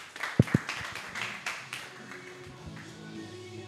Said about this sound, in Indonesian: Silakan tepuk tangan buat Odi.